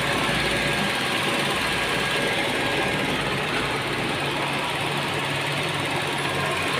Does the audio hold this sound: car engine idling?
yes